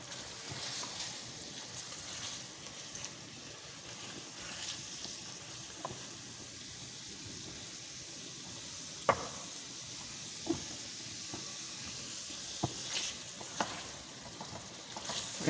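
Spicy beef stew being stirred in a pot, with a continuous bubbling sizzle and occasional clear knocks of the spoon against the side, close and moderately loud without speech.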